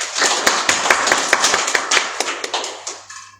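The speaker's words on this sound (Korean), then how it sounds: "우리 하나님께 영광의 박수 올리겠습니다" A church congregation bursts into applause, dense rapid hand claps close and loud that keep going for a few seconds, then taper away into a fading tone.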